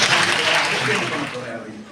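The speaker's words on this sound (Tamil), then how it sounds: "மீண்டும் ஒரு முறை ஒரு கரகோஷத்தை" An audience at an award ceremony for government school students applauds, a dense wash of clapping that fades toward the end, with talk underneath.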